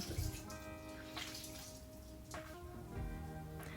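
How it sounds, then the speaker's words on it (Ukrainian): Water running from a kitchen tap, a steady splashing stream with ringing tones as it hits a sink or basin, close and continuous with brief surges in flow. "Звичайна вода з-під крану."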